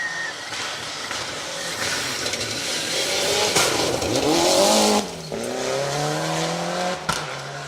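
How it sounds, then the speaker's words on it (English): A Mitsubishi Lancer Evolution VI Ralliart rally car revs hard and rises in pitch as it approaches on a rally stage, roars past loudly, then drops away with shifting gears. "Love the side and sound of a Rally Art Evo."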